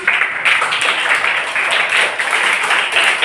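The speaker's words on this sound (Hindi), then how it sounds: "जोरदार तालियां।" A roomful of schoolchildren in a Pune municipal school claps loudly and continuously, a thick, even rattle of many small hands with no pause and no talk on top.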